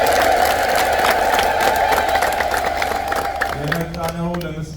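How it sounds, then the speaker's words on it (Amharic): A Kampala church congregation at an Ethiopian Orthodox annual feast ululates in praise, a loud crowd of high trilling voices that swells and then thins, with a voice rising at the end. "እስኪ ለዚህ ያደረሰልን አምላክ እልል ብላችሁ አመስግኑ"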